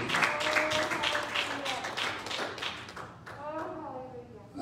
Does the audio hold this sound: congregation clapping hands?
yes